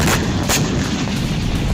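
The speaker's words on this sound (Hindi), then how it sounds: "रात के वक्त इजरायली फाइटर जेट्स ने बम गिराए, जिसके बाद जबरदस्त धमाका हुआ" Heavy blast from an Israeli fighter jet bombing at night over the town of Aita al-Shaab in Lebanon, two sharp booming thuds over a continuous loud rumbling roar, with no talk.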